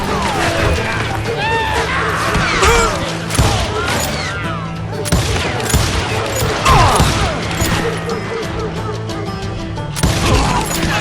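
Rapid gunfire rattles through a Call of Juarez: Gunslinger shootout, with dense overlapping shots, crashes and ricochets alongside shouted voices.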